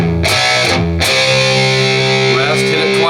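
Distorted electric guitar playing a glam metal riff in E with palm-muted open-string chugs and short rests, loud and close, alone without talk.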